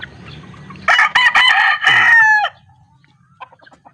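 A five-month-old young rooster crows loudly and close by, one harsh broken call lasting about a second and a half, followed by a few faint clucks.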